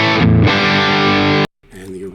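An electric guitar played through a Bogner amp and cabinet rings out a loud distorted chord that sustains, stops dead, then is followed by a quieter strum.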